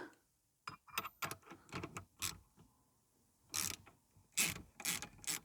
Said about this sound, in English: now that nut should undo